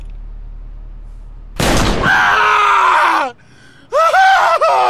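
A gun fires in the video game Borderlands 2: a sharp, loud broadband blast gives way to a warbling, whining synthetic tone that slides downward, and a second whining burst comes shortly after.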